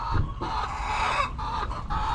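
Chickens in a farm coop give repeated soft clucks and short calls, several birds close by in a quiet pen, with no talking.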